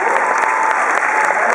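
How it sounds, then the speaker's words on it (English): A convention panel crowd bursts into brief, dense applause, a steady wash of clapping lasting under two seconds. "So applause to you for giving us something that's right."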